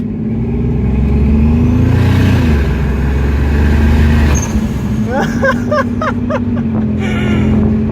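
A turbocharged car fitted with an eBay SQV blow off valve revs loudly under a steady engine drone, then lets out a burst of sharp, repeated high squealing chirps as the throttle lifts, close and prominent.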